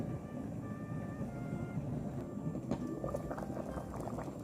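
Shrimp wonton soup simmering in a pot, a steady low bubbling rumble with faint gurgles, continuous and close, with no talk.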